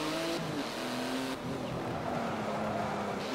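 A car in Forza Motorsport 7 on Xbox One accelerates with rising engine tones that shift pitch through gear changes, loud and continuous over a few seconds with no talking.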